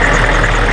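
A GM 6.5 liter diesel engine idles with a steady, loud, close rumble in a 1999 Chevrolet Mid Bus Type A school bus with an automatic transmission.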